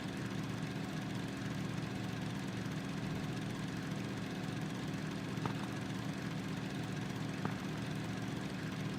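A steady motorbike engine drone in the video game Deadside, held at one even pitch for the whole stretch with no change in speed, faint and continuous.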